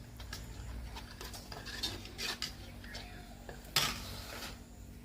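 Cumin, coriander and chilli spice paste stirred with water in a small bowl, a spoon clinking and scraping irregularly with a couple of sharper knocks, fairly quiet and close.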